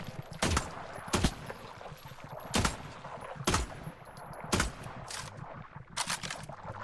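Gunshots in the video game The Last Caretaker, about eight distinct sharp cracks spaced irregularly roughly a second apart, each standing out clearly over a quiet background.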